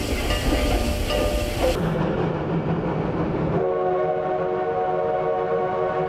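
A Baldwin-built 1936 2-6-6-2 articulated steam logging locomotive running, with loud rumbling rail noise and clanking, then a sustained tonal steam whistle blast ringing out over the machinery.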